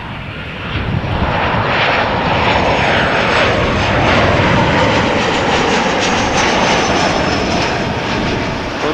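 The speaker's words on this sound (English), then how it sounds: "KLM flight 1002 arriving from London Heathrow." A KLM passenger jet arriving at Amsterdam Schiphol Airport on a flight from London Heathrow gives a loud, steady engine roar that holds evenly from start to finish, with no talk.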